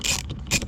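A hand ratchet fitted with an 11mm socket clicks in two quick bursts of close pawl ticks, loosening the fasteners on a door-panel tweeter in a 2004 Chevy Silverado.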